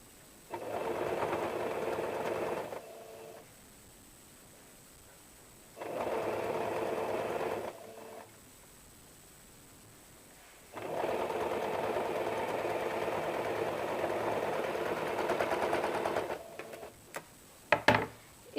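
A sewing machine stitches a blouse in three bursts of steady mechanical whirring separated by quiet pauses, close and fairly loud, ending with a few brief clicks and no speech.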